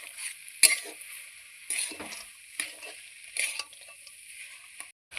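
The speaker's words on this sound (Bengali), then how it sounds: "এবার আমি আলু, চিনেবাদাম, নারকেলটাকে ভালোভাবে বিট আর গাজরের সাথে মিশিয়ে নিচ্ছি।" Boiled potato, peanuts, coconut, beetroot and carrot are stirred together for a vegetable chop filling, making soft, scattered scraping and mushy stirring noises over a faint steady hiss, with no one speaking.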